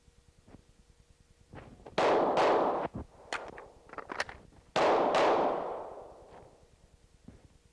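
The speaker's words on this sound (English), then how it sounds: "shoot a couple of rounds to simulate that I've been firing, and then I'm going to do a nice controlled reload" A handgun fires two loud, sharp reports about three seconds apart, each ringing into a long echo, with clicks and metallic handling sounds of a controlled reload between and after the shots.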